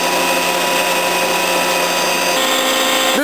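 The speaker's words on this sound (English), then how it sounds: "Showing a shot of the chip conveyor, it is fed by dual augers in the machine." The chip conveyor of a Makino A-77 CNC horizontal machining center runs on its dual augers with a loud, constant mechanical drone and a steady whine, and the low rumble drops away near the end.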